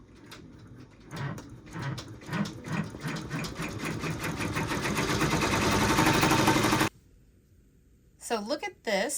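A multi-needle embroidery machine stitches a monogram with its work held in a magnetic hoop. The rapid rhythmic needle clatter speeds up and grows louder, stops abruptly, and is followed by a brief voice.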